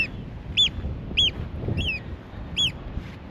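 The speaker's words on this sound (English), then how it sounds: "The oyster catcher." Oystercatcher calling by a sea cliff on the Faroe Islands, a run of five sharp piping notes in an even rhythm over low wind rumble, fairly close and clear, with no talk.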